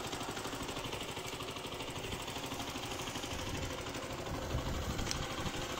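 A Zontes GK 125 motorcycle switched on and idling, giving a steady, fairly quiet, continuous engine hum with a fine, even pulse throughout; no talking.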